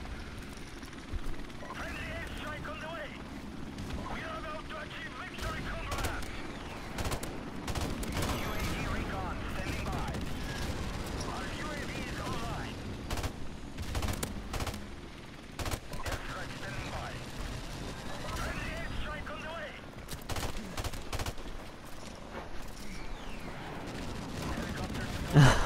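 Rapid bursts of M16 rifle fire in Call of Duty Modern Warfare Remastered on the cramped Shipment map, crackling repeatedly over dense game chaos with a player talking throughout.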